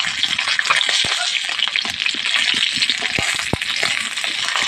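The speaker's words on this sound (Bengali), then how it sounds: "আবার এখন রান্না করছি আলু দিয়ে মাছের ঝোল হবে" Pangas fish curry with potatoes cooks in a pan, giving a steady, close sizzle and bubbling hiss with occasional soft clicks and stirring taps throughout.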